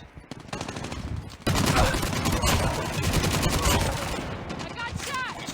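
Mobile shooter game gunfire (PUBG or COD) played on a Realme 6 phone: dense, sustained automatic fire that rattles continuously after a brief quieter opening, loud and close, with layered bursts throughout.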